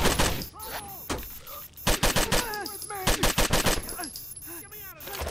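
Gunfire in Rainbow Six: Vegas 2, with rapid automatic bursts and sharp repeated shots, loud and close, mixed with clipped voice chatter and game sound throughout.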